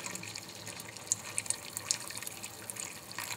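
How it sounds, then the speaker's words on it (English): Clear beef broth for Vietnamese spicy beef noodle soup poured off its settled brine, a close, thin trickle of liquid with a few brief splashy drips over a few seconds. "I'm just pouring just the clear broth."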